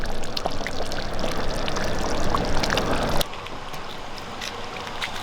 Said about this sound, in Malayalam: നമ്മൾ റെഡിയാക്കി വെച്ചിരിക്കുന്ന ബീഫ് വേറൊരു പാത്രത്തിലോട്ട് നമുക്കൊന്ന് പകർന്നെടുക്കാം